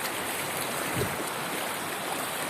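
A village stream swollen after two days of heavy rain runs full, giving a steady, dense rushing wash of water, close and continuous with no voices.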